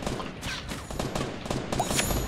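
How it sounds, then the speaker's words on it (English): Gunfire in a multiplayer battle royale video game: a quick volley of sharp shots crackling over a dense background mix across a couple of seconds, fairly loud and close. "Why are you shooting at me?"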